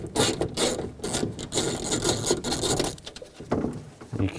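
A 10mm socket wrench backs nuts off the inner door panel of a 2004–10 BMW X3 during front window regulator replacement: dense, close rasping clicks and scraping run almost continuously, with a brief pause near the end.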